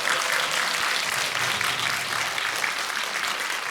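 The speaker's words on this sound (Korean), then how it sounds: "큰 박수로 맞이해주세요." An audience bursts into sustained, dense applause to welcome a film's director, actors and writer to a cinema talk event, the clapping steady and enveloping throughout with no speech.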